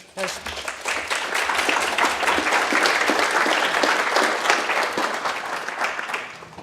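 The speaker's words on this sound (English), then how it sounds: "give them a warm applause" Warm audience applause for the speakers at the close of a conference session, a dense sustained wash of many hands clapping that swells quickly and holds steady for several seconds.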